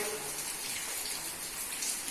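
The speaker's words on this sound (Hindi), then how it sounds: "बारिश भी हो रही" Steady rain falls continuously as a soft, even broadband hiss with scattered drip-like patter, moderately loud and without pauses.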